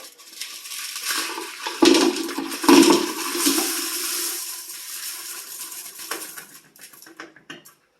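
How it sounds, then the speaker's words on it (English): Tumbled rocks and gritty slurry dumped from a bucket back into a rock-tumbler barrel, heard as a wet, clattering rush with two heavy thuds of stones landing, then trailing trickles and small knocks. "And I'll dump those back in the barrel."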